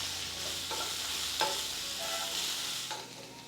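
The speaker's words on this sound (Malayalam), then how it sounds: "സവാള ചേർത്ത് നല്ല രീതിക്ക് നമുക്കൊന്ന് വഴറ്റിയെടുക്കാവുന്നതാണ്" Sliced onions sautéing in a pan for Kerala-style egg curry, a soft continuous sizzle with occasional spatula scrapes and stirring knocks, close and fairly quiet, no voices.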